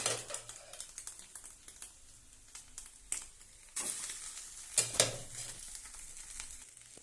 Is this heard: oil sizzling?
yes